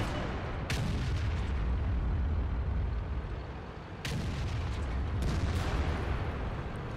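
High-explosive tank shells bursting in World of Tanks: deep, rumbling booms under a continuous low roar, with sharp blasts near the start, around the middle and again late.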